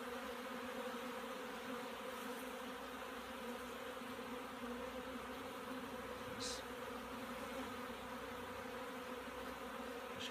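A steady, dense hum of many honey bees buzzing close by at an open hive, continuous and even throughout with no speech.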